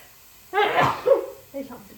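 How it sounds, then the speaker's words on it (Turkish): A single loud, close sneeze in a home kitchen during cooking, followed by a short breathy vocal sound. "Hapşırık da eklendi bana."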